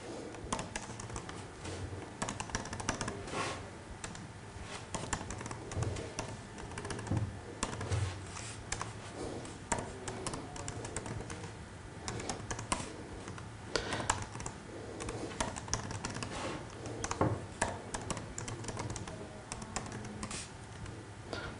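Steady typing on a computer keyboard while a title is entered when activating a TV streaming device, the keystrokes running continuously throughout at moderate, close loudness.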